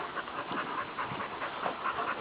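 A dog pants in quick, rhythmic breaths close by during a group play and socialization session with other dogs, the huffing steady and unbroken for a couple of seconds with no talking.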